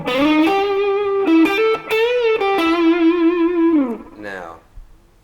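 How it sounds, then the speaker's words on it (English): Short lead licks on an electric guitar run through a Mooer Cruncher high-gain distortion pedal, sustained buzzy notes with quick bends and slides, close and loud, ending in a fading squeal. "We've got a Mooer cruncher distortion, which is a nice sort of high gain distortion"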